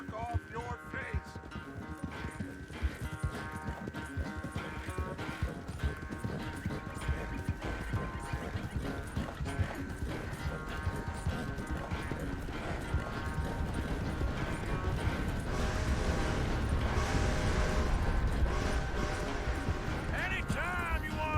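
A horse neighs and its hooves clip-clop steadily while riding in Red Dead Redemption 2, layered under character dialogue and a swelling music score that grows louder toward the end.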